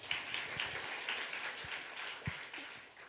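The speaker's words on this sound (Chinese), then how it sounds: "我们也为他们掌声" A church congregation at a Sunday worship service applauding, a soft, fairly distant patter of many hands clapping that swells briefly and then tapers off.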